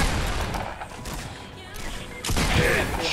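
Gunshots in the Fortnite video game, a dense, noisy barrage of firing that swells louder in the last second, with no speech.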